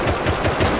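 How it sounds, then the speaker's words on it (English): Automatic AK rifle fire in the survival game Rust during a satchel raid, a fast rattling burst of repeated shots running steadily through the moment with no talk. "That's an AK, is it?"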